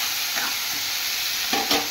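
Small shrimp coated in salt and turmeric frying in oil in a wok, a soft steady sizzle with a few brief stirring scrapes and spatters near the end.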